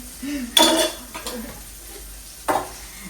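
Spices, chilli powder and mutton masala stirred in a pan for a goat-head curry, with sharp metallic scrapes and clinks of a utensil against the pan in a few bursts over a quiet background.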